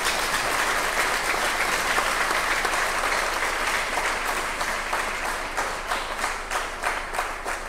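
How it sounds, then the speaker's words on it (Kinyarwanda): A church congregation claps together in sustained, dense applause that fills the space evenly, with a few individual claps standing out toward the end. "Buri wese yikomera amashyi."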